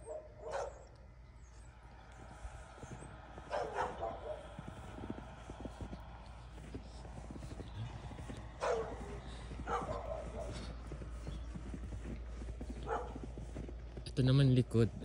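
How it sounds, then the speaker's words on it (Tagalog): Dog barking in a small snowy village, a few scattered barks at a distance over faint outdoor background, with talking in the clip. "May aso pa nga."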